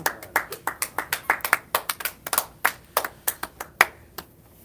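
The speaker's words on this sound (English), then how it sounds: "Nice round of applause from our Team Canada cheering squad sitting next to me this morning." A small group of spectators at a curling match claps by hand, sharp separate claps in a loose irregular rhythm that thin out and stop.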